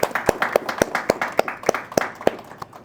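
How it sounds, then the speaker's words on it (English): Hands clapping in a slow, even rhythm, about ten sharp close claps in under three seconds, a small audience giving a round of applause at a maker talk, with no voices. "Let's give Mrs. Oberloier a round of applause"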